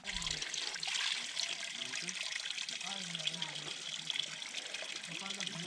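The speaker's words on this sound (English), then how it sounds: "This is Shulamit Spring. It's a source of flowing water, one of the 4 springs that create the Ein Gedi oasis." Spring water flows steadily at Shulamit Spring in the Ein Gedi oasis, a continuous close trickle and gush with brief low murmurs of voices underneath.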